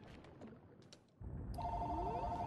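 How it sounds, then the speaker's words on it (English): A telephone rings during play of Captain Toad: Treasure Tracker, a bright repeating electronic trill entering halfway through over game music and background noise. "And of course the phone's ringing at the worst possible time."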